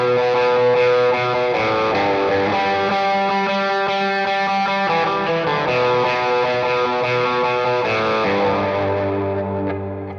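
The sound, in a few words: electric guitar with drive, light reverb and eighth note delay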